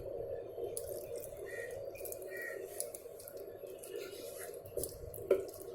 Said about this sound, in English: I am going to add water.